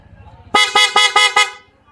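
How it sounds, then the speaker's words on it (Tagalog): A Honda ADV 160 scooter's loud horn blares in five quick, evenly spaced honks, bright and close, after a moment of quiet rumble. "Loud horn niya walang kasamang passing"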